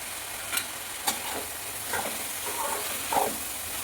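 Bottle gourd curry is stirred in a frying pan, with a low steady sizzle and a few sharp scraping clicks of the spoon against the pan, faint and without any voices.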